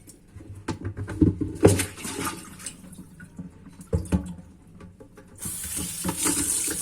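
Raw Sinop anchovies are rinsed again and again in a colander under a running tap, with water splashing and pattering in uneven bursts and handling noises, ending in a steadier hiss of flowing water.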